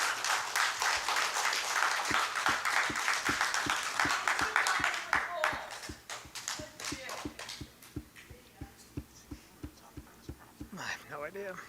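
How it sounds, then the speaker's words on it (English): Applause from the audience at a town council meeting. Fairly quiet, dense clapping gives way midway to a few scattered, slowing individual claps. "I take another round of applause for those two gentlemen"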